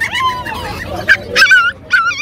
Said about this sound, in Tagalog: May aso ka din. Aso. Tuta pala, tuta.